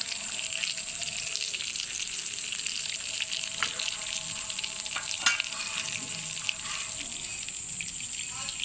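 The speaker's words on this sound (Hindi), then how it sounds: "अब ये शामी फ्राई हो गए।" Egg shami patties fry in a pan with a continuous crackling sizzle, bright and steady, with a few sharp clinks partway through.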